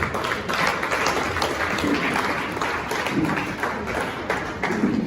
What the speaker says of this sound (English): A lot of applause for him.